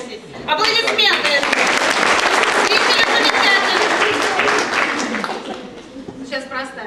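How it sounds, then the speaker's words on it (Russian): A gala concert audience applauds loudly, the dense clapping swelling at once and holding steady before tapering near the end, with voices rising over it at the close. "Аплодисменты!"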